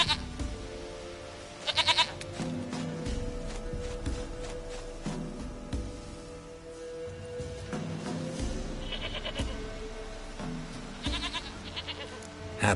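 A goat in The Witcher 3 gives several short, shaky bleats spread across the clip, mid-distance, over continuous game ambience and soft footsteps.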